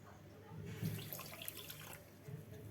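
Water pouring from a cup onto two cups of sugar in a pot for homemade syrup, a steady close splashing trickle that swells midway and then eases.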